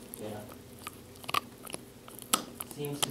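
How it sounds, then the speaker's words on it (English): Soft, irregular chewing and gnawing, a dog working at a crinkly plastic water bottle, with a few sharper crunching snaps over quiet background murmur. "I think he's in like the chewing mode."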